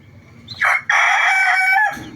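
A gamefowl rooster crows once up close, a loud, strained cock-a-doodle-doo with a brief break after the opening note, then a long held call that fades into faint background clucking.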